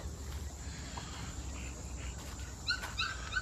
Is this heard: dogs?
yes